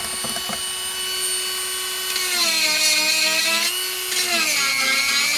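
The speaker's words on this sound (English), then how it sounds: "You take your Dremel tool and you just lightly touch it" A Dremel rotary tool grinds chainsaw chain teeth during sharpening, a close, high steady whine whose pitch sags and recovers as the stone touches the metal.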